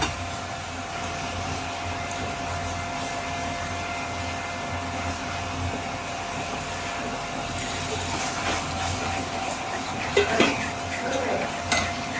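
Milk and sugar being stirred together in a pan for a sweet dish, a steady soft scraping and swirling with faint sizzle, continuous and close, a few louder clinks of the spoon against the pan near the end.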